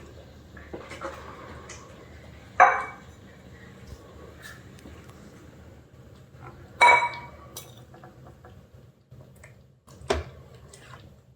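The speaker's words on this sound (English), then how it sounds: "And now I'm gonna spoon it in a bowl." Black-eyed pea chili is spooned into a bowl, producing a few distinct clinks of a spoon against the dish spaced several seconds apart over a quiet room background.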